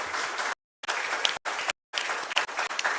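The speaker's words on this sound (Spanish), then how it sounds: "Fuerte aplauso para el Señor" A congregation in a chapel applauds during a live service, brisk massed clapping broken by several abrupt silent gaps, fairly faint overall.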